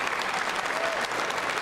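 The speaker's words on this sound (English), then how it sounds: "Yeah, you should applaud that." Applause from a crowd at a State of the Union address, a steady dense wash of clapping with no pauses, moderately loud throughout.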